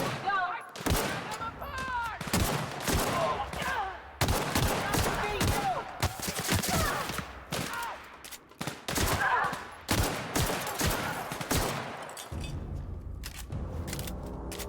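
Gunfire from the video game The Outer Worlds, a dense run of rapid shots and bursts lasting most of the stretch, loud and close, easing into quieter game ambience near the end.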